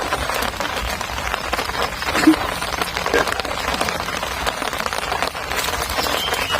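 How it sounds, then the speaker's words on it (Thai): Rain patters steadily on a surface nearby, a dense crackling hiss with occasional sharper drops, continuing throughout without pause. "ฝนตกลื่นครับพี่น้องครับผม"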